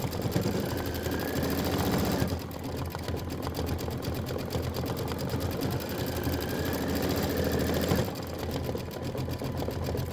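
An embroidery sewing machine stitches a dense section of a Kimberbell Enchanted Winter snowman quilt block, making a loud, continuous rapid whir. The pace shifts briefly twice along the way.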